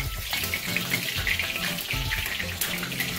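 Onions fry in oil for a rice and buckwheat pilaf, with a dense crackling sizzle and bubbling that runs steadily, close and fairly loud with no voices.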